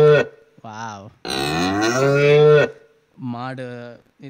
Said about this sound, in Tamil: மாடு இது பண்ணுற மாதிரி இருக்குது.